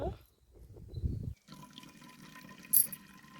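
Strained water pours and splashes into a cup for over a second, then stops, followed by quieter handling noises and a brief bright clink.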